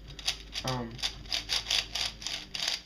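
Quick clicking turns of a Shengshou/YJ 5x5 puzzle cube, a rapid regular series of sharp close clicks, with a brief spoken word near the start.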